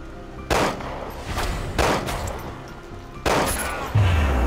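Gunfire in the Resident Evil Umbrella Corps video game: four loud, sharp shots at irregular intervals, each with a short reverberant tail, and no talking.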